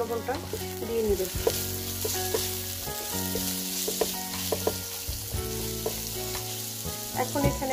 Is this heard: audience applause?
no